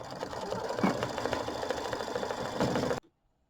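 An embroidery machine stitching a mini quilt block runs with a rapid, steady mechanical chatter and a faint motor hum, then cuts off abruptly into silence near the end.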